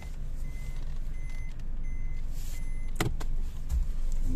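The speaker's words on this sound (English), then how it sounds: "So I'll just reverse a little bit." A car slowly reversing on private property, its engine idling low and steady while a faint, evenly spaced reversing beep pulses through the background, with a sharper clunk near the end.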